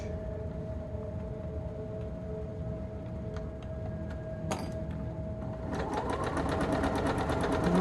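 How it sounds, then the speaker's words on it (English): Domestic sewing machine stitching a sleeve seam on fabric, a steady whirring run that grows louder and denser toward the end, with a few light clicks beforehand. "We're just guiding it through the machine"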